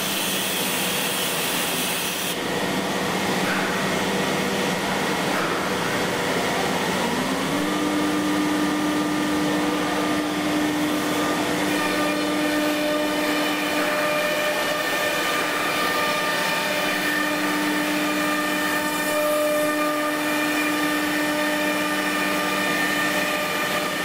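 CNC router cutting cabinet pieces, a loud continuous machine whine with steady tonal lines that shift pitch partway through as the cut changes, running alone without talk.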